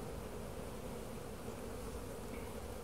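Honey bees crowd a brood frame lifted from a beehive during an early-season inspection, their dense, even buzzing steady and close throughout with no voices over it.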